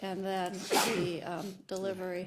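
A single sharp sneeze bursts out in the middle of someone talking during a finance and budgeting committee meeting, with speech continuing before and after it.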